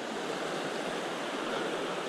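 A clear mountain stream on a forest trail rushes steadily, a soft continuous wash of flowing water with nothing else heard.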